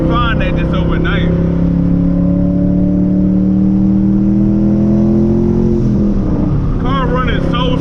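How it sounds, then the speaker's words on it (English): A 1000HP Mustang engine drones steadily at cruise, a strong low hum with a rising whine as it pulls, heard from inside the car with someone talking over it. "Car running so strong,"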